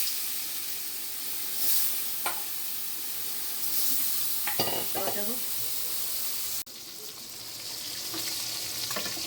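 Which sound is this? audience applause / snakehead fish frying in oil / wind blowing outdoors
snakehead fish frying in oil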